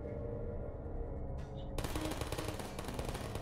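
Rapid turret gunfire in the video game Portal, a dense stream of quick automatic shots that grows brighter and louder midway, with no talking.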